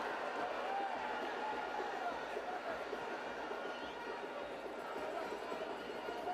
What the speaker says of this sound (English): More shouts for a foul from the home crowd here in Tegucigalpa.